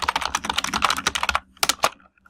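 Quick bursts of computer keyboard typing as a quiz question is entered, a dense run of close key clicks followed by a brief pause and a few final taps.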